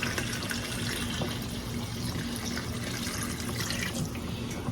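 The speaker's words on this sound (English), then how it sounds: "Okay, I'm gonna cover them with water." Tap water runs steadily into a pot of oxtails in a home kitchen, a continuous close, fairly loud rushing and splashing with no talking over it.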